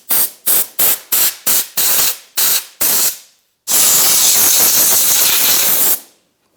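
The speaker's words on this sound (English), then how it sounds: "Just want to take some compressed air and blow off the top of the tank so none of the dirt goes" Compressed air blasts dirt off the top of the fuel tank on a 2011-2018 Ram 1500 3.6L, first in about nine sharp, rapid hissing spurts, then one long continuous roaring blast, loud and close.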